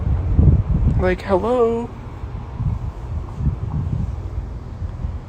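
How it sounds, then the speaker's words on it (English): Outdoor wind buffets the microphone with low, gusty rumbling that rises and falls throughout, while someone speaks briefly over it. "It is windy and I need to get warm."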